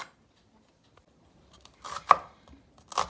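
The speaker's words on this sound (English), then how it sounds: "Onion, I'll do the same thing, finely chopped." An onion finely chopped with a knife on a board, a few soft scattered cuts followed by short bursts of quick chopping, close and clear with no talk.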